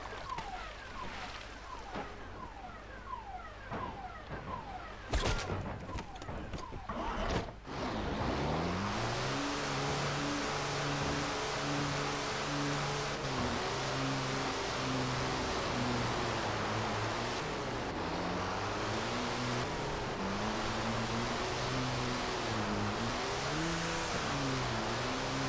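A vehicle churns through deep water, a steady loud wash with wavering engine drone under it, after a few sharp knocks and a rushing start in the opening seconds; no talk.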